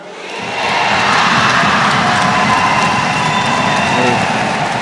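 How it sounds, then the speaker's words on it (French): Audience applause and cheering at an International Women's Day celebration in the DR Congo, a loud, sustained roar of crowd noise that swells in after a brief quiet start and holds steady throughout. "des applaudissements de l'assistance"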